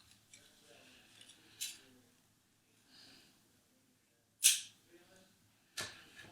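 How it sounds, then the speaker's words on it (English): Crochet yarn snipped with scissors, a few sharp isolated snips standing out against a quiet background, with soft handling noises between them. "cut this yarn"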